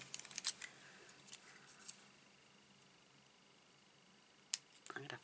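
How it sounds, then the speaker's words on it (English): A few faint, crisp snips of small scissors cutting paper for a card, a couple near the start and another pair near the end, in an otherwise quiet room. "Let me grab my little scissors."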